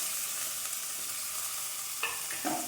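Ginger, garlic, green chili and curry leaves frying in oil in a pan for a chicken curry: a steady close sizzle, with a couple of stirring clatters near the end.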